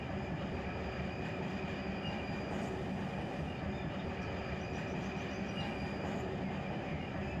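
Freight train rolling steadily in the Run 8 simulator, a continuous dense rumble of railcars with faint wheel squeal, heard alone with no talk and no clear break in the running noise.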